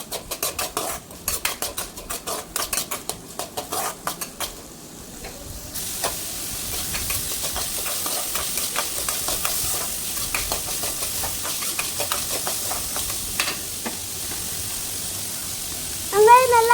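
Onions sautéing in hot oil in a pan, with repeated clatter of a utensil against the pan over a steady sizzle. A louder stirring burst comes near the end.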